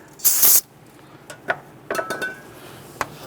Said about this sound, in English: I'm going to spray a little bit of solvent on a rag here